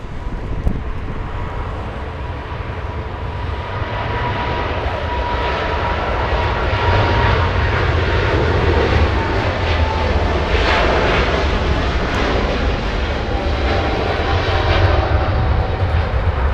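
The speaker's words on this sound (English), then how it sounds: "Let's look beyond the trees to take a look at the 777 departure" A Boeing 777 jet departing Los Angeles International Airport gives a loud, steady, broad engine roar that holds strong throughout with slight swells. There is wind noise and no talk.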